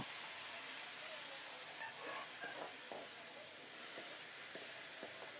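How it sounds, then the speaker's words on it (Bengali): Chopped garlic fries in hot mustard oil, a steady, even hiss of sizzling heard close up with a few faint stirring clicks underneath. "তেল গরম হলে কুচানো রসুন দিলাম। নেড়ে চেড়ে রসুনটাকে লালচে করে ভেজে নিয়ে শাক দিয়ে দেব।"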